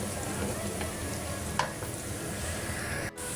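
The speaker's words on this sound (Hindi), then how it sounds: "ये प्याज हम ब्राउन कर रहे हैं" Onions browning in a pan for chicken korma give a steady, close sizzle of frying in oil, with a brief stir or scrape partway through.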